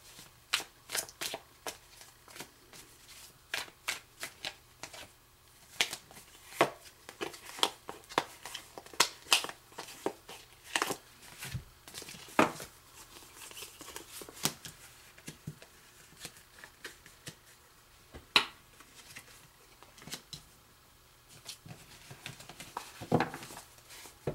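Tarot cards shuffled by hand, a long series of crisp riffling snaps and soft patters in irregular bursts, close up and alone with no voices.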